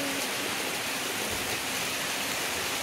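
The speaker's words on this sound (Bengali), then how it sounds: "তার মধ্যে দেখো প্রবল বেগে বৃষ্টি শুরু হয়েছে।" Heavy rain pours down on a house under construction whose roof slab was just cast; a loud, dense, continuous roar of rainfall fills the clip with no voices.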